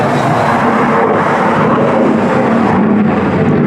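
A jet aircraft takes off near a go-kart racetrack, a loud continuous broadband roar that stays steady and fills the whole stretch with no talk.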